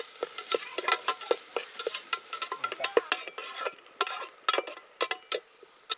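Medium-sized chopped onions frying in hot oil in a pressure cooker for a meat rice dish, with a soft sizzle under repeated sharp scraping clicks as they are stirred.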